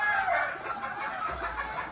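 Fighting rooster crowing in a long, hoarse call that carries across open ground, with a farmyard murmur behind it.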